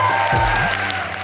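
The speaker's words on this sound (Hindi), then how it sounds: "तालियां" A brief burst of applause from a studio audience at a comedy show runs under a voice and a sustained musical tone.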